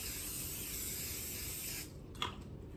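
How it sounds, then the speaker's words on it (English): A steady aerosol hiss of cooking spray into a pan for nearly two seconds, then stops, followed by a short clatter and quieter room noise. "we're going to spray your pan."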